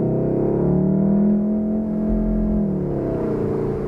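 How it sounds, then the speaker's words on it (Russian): A Volkswagen Golf 7 R engine tone produced by its built-in sound generator and heard from inside the car: a steady, moderately loud droning hum that rises slightly and then settles as the car revs, with no talking. "то, что мы слышим внутри, звук движка, который слышится вот так вот"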